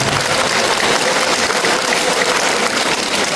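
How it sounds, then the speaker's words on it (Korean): A room full of people at a Buddhist temple service clapping steadily, a dense, loud wash of applause that continues evenly throughout. "박수 한번 해주세요."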